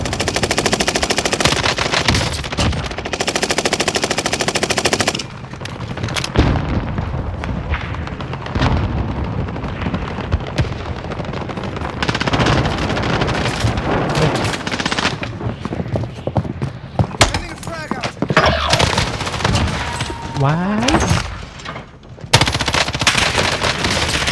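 Assault rifle fire in Call of Duty Warzone, loud rapid bursts rattling almost nonstop with brief gaps, mixed with other gunfire and booms in the game mix.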